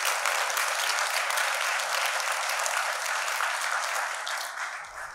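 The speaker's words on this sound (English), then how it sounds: "How about a round of applause for Kaylin?" An audience at a candidates' forum claps steadily for the moderator, a dense, sustained round of applause that fades slightly at the end.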